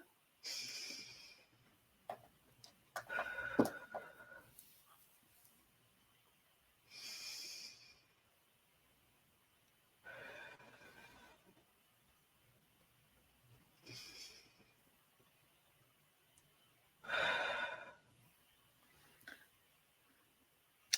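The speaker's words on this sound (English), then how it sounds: "Can I get you to do 3 deep breaths in and out too?" Slow deep breathing in and out, with several audible breaths spaced a few seconds apart, soft and close in a quiet room with no talking.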